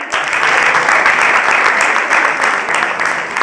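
A theatre audience applauds loudly and steadily at the close of a stage play, dense clapping holding at a constant level throughout with no voices on top.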